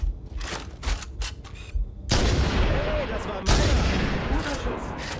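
Two heavy booming sniper rifle shots from the video game Halo 1, each with a long decaying echo, following a few quieter clicks and shots at the start.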